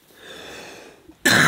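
A single harsh cough bursts out loudly and close at the end, after a stretch of faint breathy background noise.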